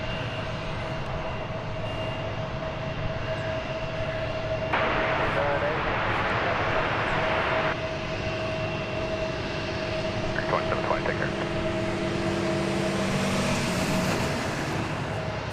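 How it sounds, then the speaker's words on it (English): A Boeing 737-800 arriving at DFW Airport from El Paso rumbles steadily in the background beneath radio chatter and talk, with a persistent tonal hum and a burst of static partway through. "Flight 2029 arriving from El Paso, 737-800."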